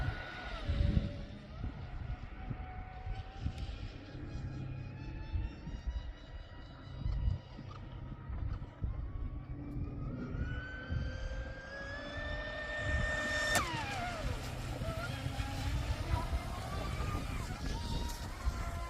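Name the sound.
Proboat Impulse 32 RC boat running on open water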